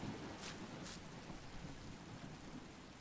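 Steady rain in the video game Skyrim, a soft continuous patter with a couple of brief brighter splashes near the start and no voices.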